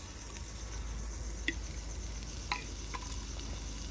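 Mutton frying and being stirred in a pan at home, a steady low sizzle with a few faint clinks of a utensil against the pan, close and without talk.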